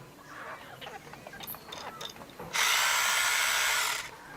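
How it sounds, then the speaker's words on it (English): A spider milking machine runs with light ratcheting clicks and rattles, then a loud, steady, high whirring hum that stops abruptly. "This is my milking machine."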